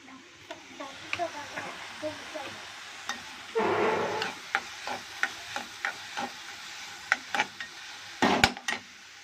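Onions frying in a pan on a home stove, a steady soft sizzle under clinking utensil knocks and stirring taps, with a louder scraping burst midway and a couple of sharp clatters near the end.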